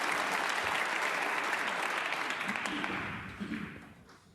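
Applause from a snooker tournament crowd at a quarter-final, loud and sustained at first, then thinning out and fading toward the end.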